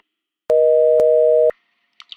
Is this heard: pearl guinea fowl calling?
no